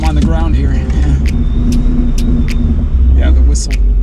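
A 1000 HP Ford Mustang rumbles loudly from inside the car, with a thin, steady high whistle riding over the engine drone, while voices talk over it.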